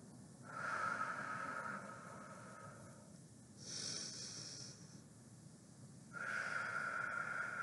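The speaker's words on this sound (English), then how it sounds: "Breath in." Slow, deliberate breaths during a guided breathing exercise: a long audible inhale, a pause with a softer exhale, then another drawn-in breath, close and fairly quiet, with no talking.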